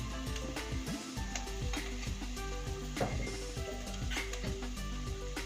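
Onions frying in a pan with chicken for a Kerala-style dish, a steady sizzle with occasional stirring scrapes and clinks throughout, close and continuous.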